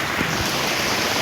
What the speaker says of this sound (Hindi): अब बारिश हो रही है